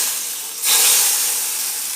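Hot tempering is poured into freshly boiled drumstick lentil sambar, made wedding-house style. A sudden loud sizzling hiss bursts in partway through and keeps crackling steadily, close and alone, after quieter background noise.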